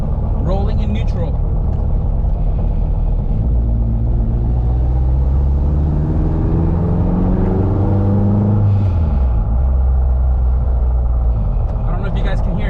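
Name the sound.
car drivetrain noise while rolling in neutral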